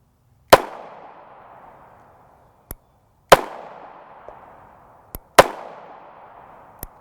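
Three loud, sharp 9mm reports from a Springfield Hellcat subcompact pistol firing 115-grain FMJ rounds, evenly spaced about three seconds apart, each with a short decaying echo and a faint click between shots.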